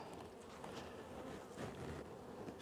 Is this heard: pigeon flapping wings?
no